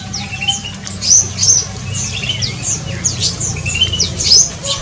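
Many Indonesian birds, mostly endemic species, chirp, whistle and squawk in a busy overlapping chorus inside an aviary, with sharp calls rising over a steady low background hum.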